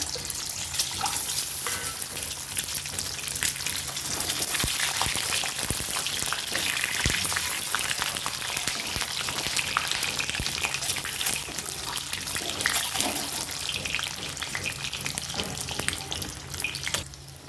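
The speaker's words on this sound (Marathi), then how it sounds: "कढई छान तापलेली आहे तर अंडी मी ह्याच्यामध्ये सोडून देते अंडी आपल्याला फ्राय करून घ्यायचं" Eggs fry in hot oil in a heated kadai, a continuous close crackling sizzle with scattered sharp pops and spatters, steady and fairly loud throughout without any talking.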